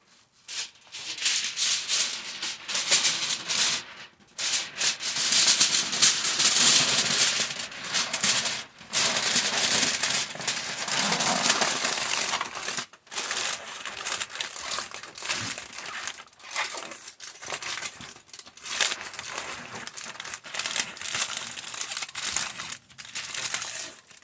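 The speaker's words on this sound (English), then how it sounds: "Now we're going to wrap these in the tin foil." Tin foil is wrapped around panko chicken nuggets, producing loud, close crinkling and crumpling in irregular bursts separated by brief pauses, with no voices.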